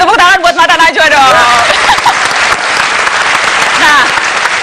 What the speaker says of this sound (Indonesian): Kasih tepuk tangan buat Mata Najwa dong.